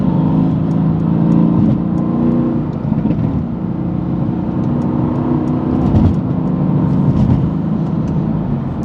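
Car driving up a ramp onto a highway, a steady loud engine and road drone heard from inside the vehicle with no talking.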